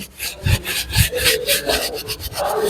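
A cloth wiped gently back and forth over leather car interior trim with Sonax interior cleaner gives a steady, close, rhythmic rubbing and swishing with no voices.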